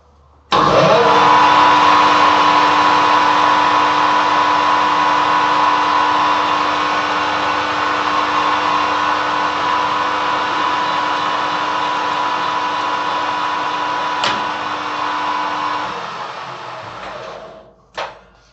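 Gosan metal lathe running while taking its first cuts: a steady, loud machine whine with a sustained tonal hum that holds for about fifteen seconds, then winds down and stops with a final clunk.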